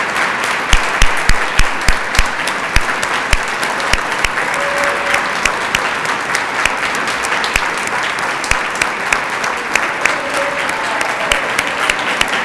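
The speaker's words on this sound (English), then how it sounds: "I really want everybody here to join me with an enthusiastic round of applause for this great guy" Enthusiastic round of applause for a man named Tim at a downtown Dayton plan update meeting, with a large crowd clapping steadily and some louder close claps standing out.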